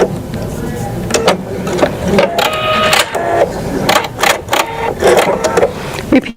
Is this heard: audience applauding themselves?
no